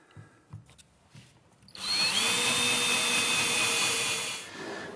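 A power drill drives screws into plywood for a kitchen island base, starting after a few light knocks and whining steadily at close range for about three seconds before winding down, with no talk.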